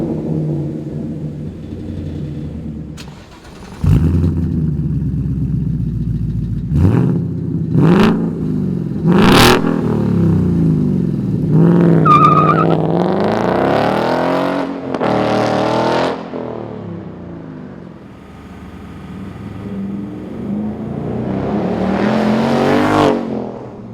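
A 2015-2017 Ford Mustang GT with a Mishimoto race axle-back muffler-delete exhaust, resonator still fitted, and 4.5-inch black tips rumbles at idle and then revs hard repeatedly, loud blips rising and falling between deep burbling lulls.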